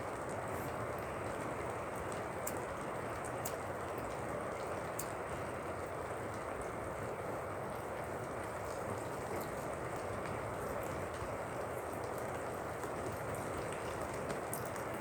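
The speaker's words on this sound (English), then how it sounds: "Oh, it's raining." Steady rain falls outdoors in a continuous, even hiss with a dense patter of drops, moderately quiet and unbroken throughout, with no voices.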